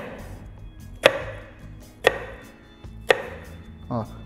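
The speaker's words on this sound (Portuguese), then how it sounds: "vamos passar a faca aqui, ó, bem pertinho um corte do outro" Knife cutting an onion on a cutting board, three sharp evenly spaced chops about a second apart, close and clear against quiet room tone, followed by a softer scrape.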